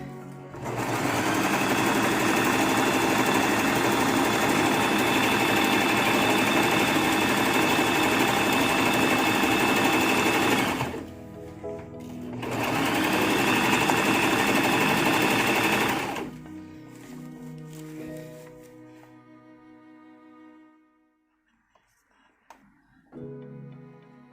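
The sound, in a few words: sewing machine stitching fabric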